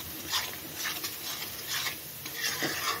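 Fish coated with turmeric and salt fries in a pan with a soft, close sizzle. Periodic scraping and rubbing strokes of a spatula come at an uneven rhythm.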